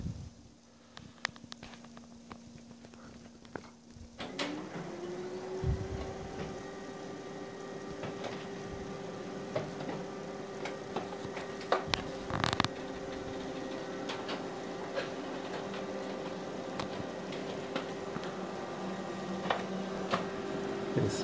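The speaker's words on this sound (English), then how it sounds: "Just select that, print on both sides" HP LaserJet 4200n monochrome laser printer running a double-sided print job, starting with a low hum, then spinning up into a steady whirring drone dotted with repeated clicks and clacks of paper handling, close by and without talk.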